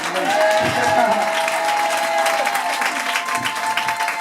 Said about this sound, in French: Si tu es content, dis Amen et acclame le Seigneur.